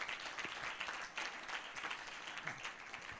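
An audience at a university medical faculty lecture in Lagos applauds, with scattered clapping of uneven strength that stays fairly faint and distant, a few sharper claps standing out over about three seconds, and no voices on top.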